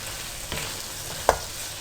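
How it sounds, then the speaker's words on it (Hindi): Potatoes and bitter gourd fry in a pan with a soft, steady sizzle, broken by a few scraping stirs and one sharp clack of a spoon, close by with no talking. "और 1 मिनट के लिए सिर्फ आपने इसको फ्राई करना है, मज़ीद भून लेना है सालन को"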